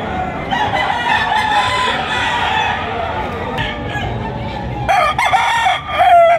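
Gamecock stags crow loudly and repeatedly at close range, their cock-a-doodle calls overlapping with clucks, and a second burst of crowing rises toward the end.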